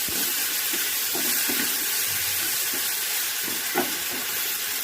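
A coarse ground spice paste hits hot oil and sizzles loudly and steadily for an egg masala curry. The frying hiss is close and continuous, with faint stirring clinks and no speech.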